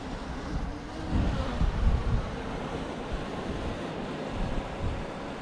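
Steady wind buffets the microphone on an Australian coastline, a broad continuous rush with gusts swelling louder around the middle and low surf-like roar underneath, with no voices.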